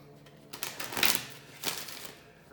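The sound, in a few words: shuffling tarot cards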